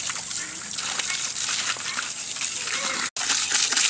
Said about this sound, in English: now we rinse our grain